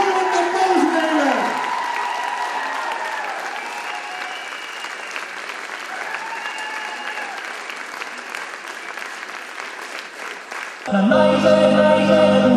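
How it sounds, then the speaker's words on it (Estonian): Audience applause at a Tartu student spring festival, dense clapping and some cheering from a large crowd that carries on for about ten seconds. Music bursts in loudly at the end. "Suuremat aplausi teile!"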